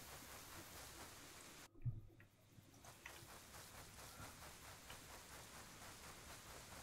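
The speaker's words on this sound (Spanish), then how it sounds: "Es de noche y está lloviendo." Steady rain hisses throughout at night in the video game Stoneshard, broadband and continuous, with a brief thump and a short quieter dip near the start before the downpour resumes.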